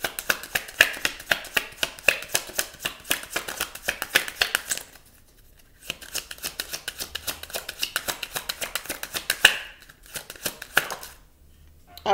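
Tarot cards shuffled by hand close up, a rapid run of crisp riffling snaps and slaps in bursts, with short pauses between rounds.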